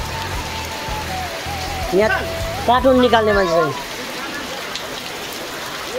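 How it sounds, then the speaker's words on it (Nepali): Heavy rain falls steadily with a constant broad hiss and patter throughout, while people talk over it in the foreground. "पानी पर्दैछ धेरै ठुलो पानी पर्दैछ"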